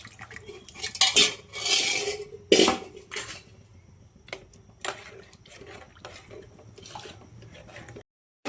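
Sambar with boiled lentils being stirred in a pot, a spoon scraping and clinking against the metal in short bursts, with quieter wet stirring between.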